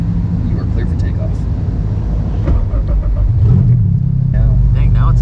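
A naturally aspirated K24 engine swapped into an MR2 revs and surges, then drops back to a steady low idle, with a person talking over the motor throughout.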